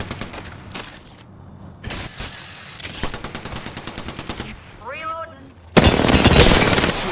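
Rapid bursts of automatic gunfire crackle in an Apex Legends match, fast repeating shots with sharp impacts and a shattering crash, ending in a loud sustained blast, with game voice lines mixed in.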